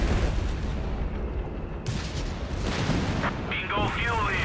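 A mine explodes amid a Company of Heroes 3 World War II battle, one heavy boom rising out of constant artillery and gunfire rumble, with a voice talking over the din.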